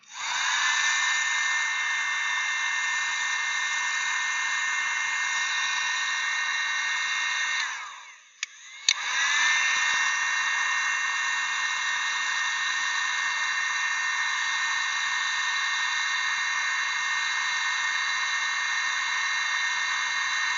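A heat gun shrinking marine butt connectors on spliced wires gives a loud, steady high-pitched whine and blowing hiss that dips briefly partway through, then resumes.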